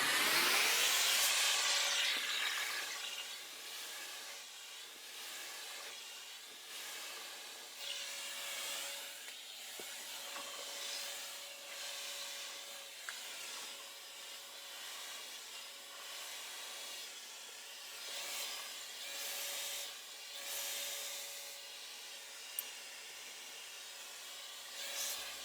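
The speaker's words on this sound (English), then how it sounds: "you're simply brushing and blow drying" A hair dryer running steadily while hair is brushed and blow-dried, a soft continuous airy hiss with faint repeated brushing strokes, close and fairly quiet, no talk.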